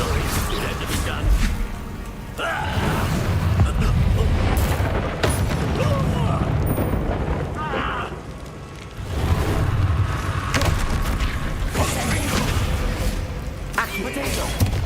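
A Confringo spell explosion in the video game Hogwarts Legacy: blasting booms and crashes amid busy combat effects, with a voice talking over the action.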